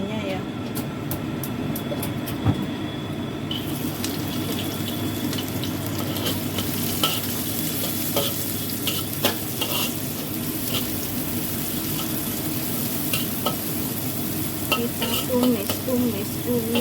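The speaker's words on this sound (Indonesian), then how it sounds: "ini saya mau goreng bawang merahnya ya" Shallots fry in a pan with a steady, dense sizzle throughout, broken by irregular scraping and clinking of stirring, close and constant, with occasional light talk.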